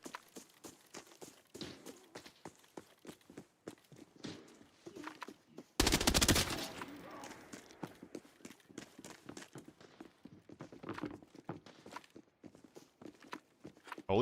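Video game gunfire from an AK-12 rifle and a Desert Eagle pistol during an indoor firefight, heard as rapid close shot bursts with one loud, dense volley mid-clip and scattered shots and footsteps throughout.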